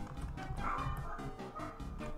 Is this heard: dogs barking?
yes